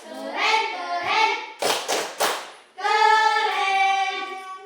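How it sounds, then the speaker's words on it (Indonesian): Primary school class in a group lesson chanting with a teacher, with a short burst of sharp, rhythmic hand claps between the voices, close and loud, sung syllables before and after. "Iya, tepuk keren dulu untuk kelompok 2. Tepuk keren."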